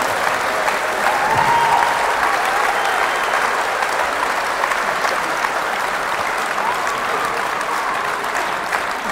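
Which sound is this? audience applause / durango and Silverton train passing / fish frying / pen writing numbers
audience applause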